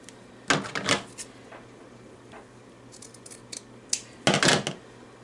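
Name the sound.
scissors trimming lace off a dress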